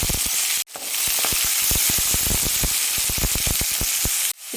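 Chopped onions frying in oil in a pan with curry leaves and urad dal for upma, a dense continuous sizzle broken by rapid crackles and pops, with brief dips as the pan is stirred.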